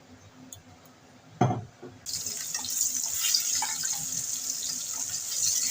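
A soft thump, then rohu fish coated in salt and turmeric hits hot oil and a loud, steady sizzle starts and keeps going, close and bright.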